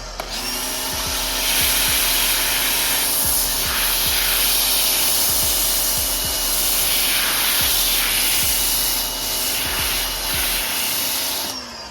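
An MJJC V3 foam cannon on a pressure washer spraying soap, giving a loud continuous hiss and hum with faint rhythmic knocks underneath and a sudden cutoff at the end.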